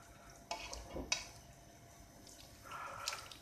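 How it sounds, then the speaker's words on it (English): Bolognese sauce being stirred in a slippery pan, with a couple of sharp scrapes and clinks of the utensil against the metal, then a softer scraping swirl near the end, fairly quiet and close, with no voices. "Mix it up, stir it up."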